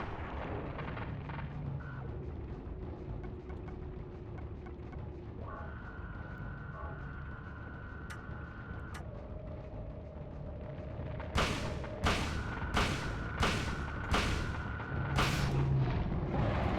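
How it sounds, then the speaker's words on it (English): Shotgun blasts go off in a Silent Hill video game boss fight, several loud booming shots with a rapid cluster near the end, over sustained game tones and a low rumble. "Does only take 2 shots with the shotgun yeah. to kill it once its mouth's open."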